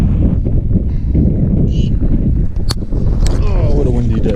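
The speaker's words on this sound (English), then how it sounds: "Oh, what a windy day." Gusty wind rushes across the microphone during a fixed gear bike ride in Benicia, California, a loud continuous rumble with brief chirps and rattles near the end.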